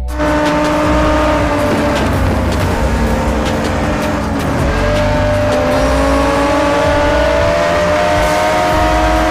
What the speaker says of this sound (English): Strap yourself in and rev those engines as you embark on an adrenaline-fueled journey through stunning landscapes and challenging terrains.